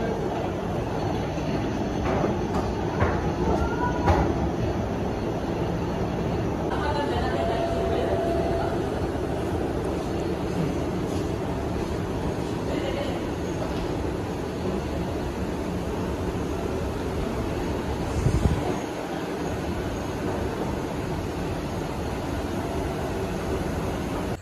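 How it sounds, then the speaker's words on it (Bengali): A passenger train pulls into a station near New Cooch Behar, a continuous low rumble of rolling carriages with faint clatter and station ambience, steady throughout with a brief louder thump near the end. "দীর্ঘ অপেক্ষা করার পর আমাদের ট্রেন ঢুকে গিয়েছে"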